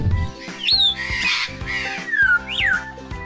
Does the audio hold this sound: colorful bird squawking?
yes